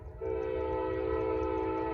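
Norfolk Southern northbound freight train 154, a heavy train, passes close by with a loud, sustained horn over a steady low rumble of the locomotive and cars.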